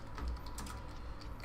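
Soft, continuous clicking of computer keyboard keys during fast typing, faint and close under a low background rumble, with no talk.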